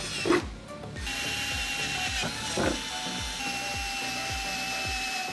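A power drill bores holes through a BMW M3 E90/E92 trunk lid for a GTS wing install, giving a steady whirring drone with a rapid repeating ratchet-like clicking and a couple of louder bites into the metal.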